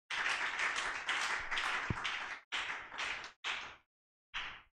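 A congregation applauds during a church seminar, a dense burst of clapping that stops and restarts in several short waves before a final brief round, with no talking over it.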